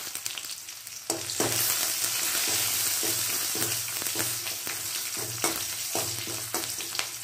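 Dried chillies and curry leaves fry in hot oil for chundal, erupting into a loud close sizzle after a quiet first second, with repeated scraping stirs and clacks against the pan over continuous crackling.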